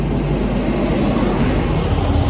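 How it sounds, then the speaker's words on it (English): A large truck passing close by, a loud, steady broadband roar with heavy low rumble filling the whole stretch and no voices over it. "Look at that giant ass truck."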